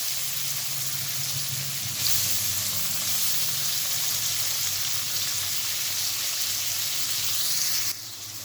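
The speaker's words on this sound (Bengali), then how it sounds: "এরপর মাশরুমগুলো আমি হালকা ভেজে নিচ্ছি বাটারের সাথে।" Steamed mushrooms fry in butter and oil in a wok, giving a steady, close, broadband sizzle that holds level for several seconds and drops slightly near the end.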